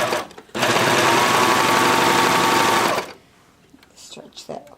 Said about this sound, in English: I have my blade engaged, so you can cut. For this is the 4-thread. I can just cut as I go.